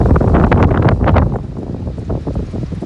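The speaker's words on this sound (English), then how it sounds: "you hear that wind, man? That shit is crazy." Strong wind buffets the microphone outdoors beside a 2019 Chrysler 300S V8, making heavy, rumbling, uneven gusts that are loudest at first and then ease slightly.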